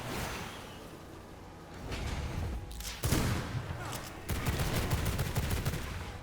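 Gunfire in the vampire survival game V Rising, short bursts of shots and rattling fire that begin after a quiet stretch, with a brief gap between volleys, loud and close, no talking.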